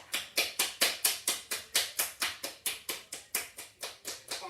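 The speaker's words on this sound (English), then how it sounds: "Let's go ahead and give it a clap." Hands clap and slap against a bare foot during a gentle home yoga session: a steady, fast run of about eighteen crisp, close slaps at an even rhythm, with no talking over them.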